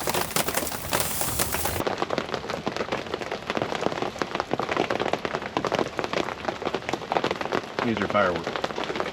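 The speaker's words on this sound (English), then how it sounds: "Another storm coming in." Heavy rain from a coastal storm pelts a camping trailer at Beverly Beach State Park, Oregon, in a dense, constant patter, with a brief voice near the end.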